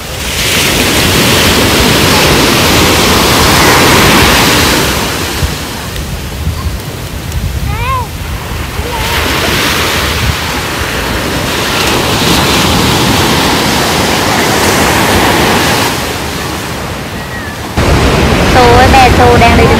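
Ocean waves wash onto a beach in a broad, steady roar that swells and fades over about twenty seconds, with some wind rumble on the microphone.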